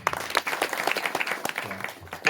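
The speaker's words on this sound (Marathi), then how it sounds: "मंडळींसाठी टाळी वाजवतोय." An audience at a kirtan, a devotional singing gathering, breaks into brief scattered clapping with crowd murmur, lasting a couple of seconds.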